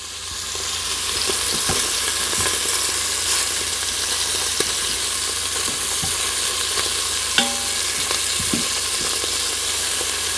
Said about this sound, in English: we'll give those about a minute just to saute in the leftover juices there from the broth